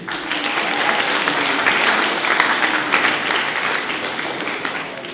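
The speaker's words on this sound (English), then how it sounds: "another round of applause" An audience at a school staff revue gives a full round of applause, an even, energetic clatter of many hands at moderate distance, sustained for several seconds without speech.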